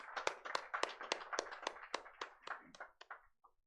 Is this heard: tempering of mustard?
no